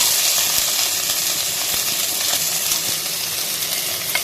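Chopped beans and carrots dropped into hot oil in a pan, a steady close sizzle and crackle with small clinks, continuous without talk.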